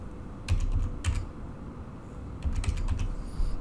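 Typing a verification code on a computer keyboard: bursts of close, crisp key clicks in two short clusters separated by a brief pause, over a low steady background hum.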